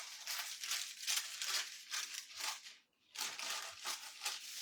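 A knife cuts through a block of homemade red lentil butter, giving soft crinkling and crunching strokes in a steady series, with a short pause midway, close and fairly quiet.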